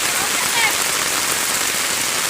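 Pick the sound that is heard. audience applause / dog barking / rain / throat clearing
rain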